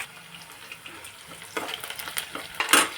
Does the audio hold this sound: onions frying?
yes